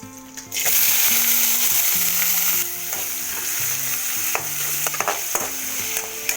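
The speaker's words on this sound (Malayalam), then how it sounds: "ഇപ്പം എണ്ണ ചൂടായി നമ്മൾ കടുക് ഇട്ട് കൊടുത്തു കേട്ടോ. നമുക്കത് സവാളയും പച്ചമുളകും കൂടെ തട്ടാം." Mustard seeds, onion and green chilli fry in hot oil with a loud, close, crackling sizzle that swells suddenly, then settles into steady spattering under occasional stirring clinks and faint background tones.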